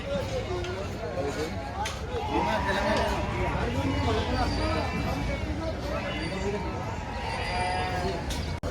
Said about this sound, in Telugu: అవి చూడండి మొత్తం గొర్రెలు.